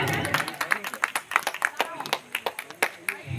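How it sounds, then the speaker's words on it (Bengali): An audience at a cultural event claps together in a burst of irregular, fairly close hand claps that thins toward the end, with scattered crowd noise mixed in. "ওনার জন্য একটা জোরে হাততালি হয়ে যাক।"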